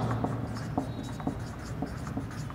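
Someone writes on a board during a biology lesson. Soft, repeated scratchy strokes and taps come in quick succession against low room noise.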